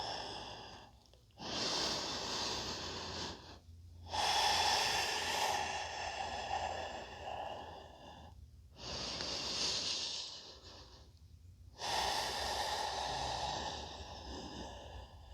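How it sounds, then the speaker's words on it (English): Slow, deep breaths during a yoga pose on a block, each long airy inhale and exhale lasting several seconds, heard close and soft with brief quiet pauses between them and no talking. "and breathing."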